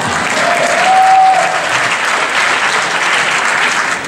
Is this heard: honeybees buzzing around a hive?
no